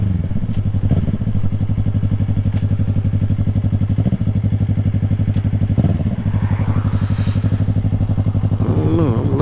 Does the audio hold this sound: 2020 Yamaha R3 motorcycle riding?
yes